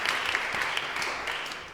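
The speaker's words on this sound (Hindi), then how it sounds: "तालियां इस बात पे यार," A studio audience on a Pakistani television talk show breaks into brief, quick applause, a short burst of scattered clapping at moderate level with no talk over it.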